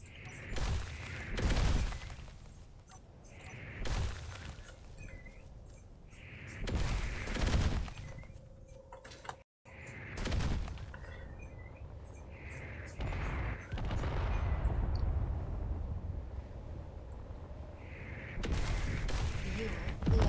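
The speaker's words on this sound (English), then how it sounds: "what the hell is shooting at me?" Rapid bursts of gunfire and booming shots in a video game, the player under attack, repeating in clustered volleys over a steady rumbling background, loud and close, with no talking.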